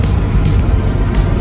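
A Lexus LX470 Land Cruiser more than fifteen years old hums quietly during a test drive, a smooth low engine and road drone close inside the cabin with no talk.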